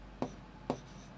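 Chalk or marker strokes on a board as a teacher writes a math operation in a quiet classroom: two short, distinct scratches about half a second apart, each fairly soft, with no talking.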